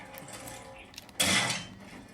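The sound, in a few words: mega crossbow shot in a video game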